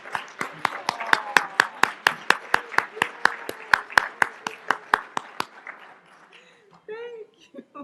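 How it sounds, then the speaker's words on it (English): An audience at a Jamaican immigration and citizenship agency's honours ceremony claps for an honoree. The claps are sharp, evenly spaced and fast, then fade out as a person starts speaking. "Let's give him a big hand."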